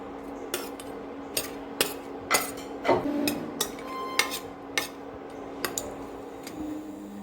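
Cinnamon stick and cloves sautéed in a pan for a brinji rice dish, heard as a steady run of spoon taps and scrapes against the pan over a low hum, evenly spaced and close by, with no talking.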